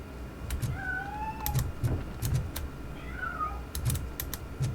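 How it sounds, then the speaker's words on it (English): A cat meows twice in the video game Robocop: Rogue City, two drawn-out cries rising and falling over a quiet ambient bed scattered with soft clicks and taps. "That cat must be hiding inside."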